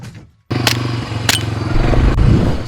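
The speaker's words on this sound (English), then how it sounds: "This has a kickstart on it." A small motorcycle-style engine is kicked over and catches after a moment of quiet, then idles and revs loudly up close with clattering thumps from the kickstart.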